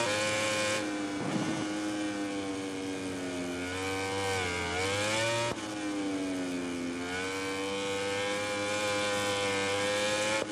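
A racing superbike engine in the WSBK 20 video game at Mugello screams steadily at high revs, its pitch rising and dipping as it shifts and corners, loud and continuous throughout.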